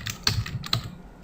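Typing on a computer keyboard while setting up a time picker animation in Figma: a quick, close series of soft key clicks with two sharper taps standing out, alone with no talk.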